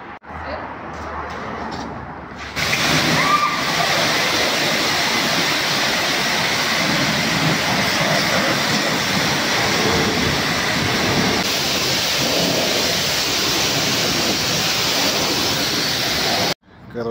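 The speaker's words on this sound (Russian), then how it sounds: "Водой смывать будем пену." Pressure-washer water jet rinsing foam off a car at a self-service car wash, a loud steady hiss and spray running almost continuously from start to end, with brief talk near the beginning.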